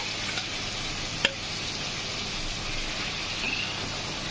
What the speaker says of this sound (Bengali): এবার এখানে ম্যারিনেট করে রাখা চিকেনগুলো আস্তে আস্তে করে দিয়ে দেবো। দিয়ে এটা হালকা আছে একদম লো ফ্লেমে এটাকে ভেজে নেব।